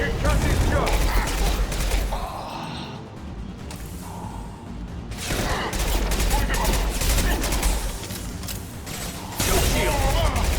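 Concussive shot ability firing in Mass Effect 2 amid loud combat, heavy bursts and mechanical clatter of gunfire dense throughout, briefly thinning midway before resuming.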